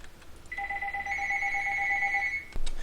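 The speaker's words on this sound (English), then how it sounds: "Just the telephone" A telephone rings in a room with a steady electronic tone that lasts about two seconds, close and clear over quiet background noise, then stops abruptly with a soft knock.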